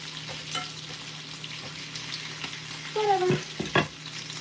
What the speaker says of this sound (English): This grease is just popping all on my stomach